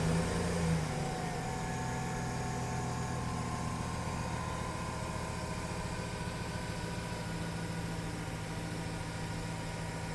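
A 2008 Chevrolet pickup truck idles steadily after starting, a close, constant engine hum with an even low rumble and no talk.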